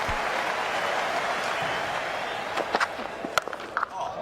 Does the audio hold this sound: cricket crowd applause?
yes